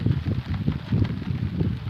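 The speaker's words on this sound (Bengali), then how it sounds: "বৃষ্টি এবং বাতাস, গুড়ি গুড়ি বৃষ্টি ছিল" Gusty wind outdoors on an overcast, drizzly day at a lotus and water-lily wetland, rumbling and buffeting steadily against a close microphone with no voices.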